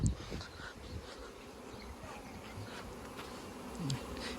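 Honeybees buzz steadily at a hive during honey harvesting, a dense continuous drone that stays close and even throughout, with no voices.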